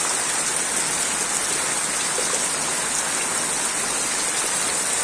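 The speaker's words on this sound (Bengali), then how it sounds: "বর্ষা পড়িতেছে, রিমঝিম বৃষ্টি পড়িতেছে" Light monsoon rain falls outdoors in an even, unbroken hiss, close and moderately loud, with no voices over it.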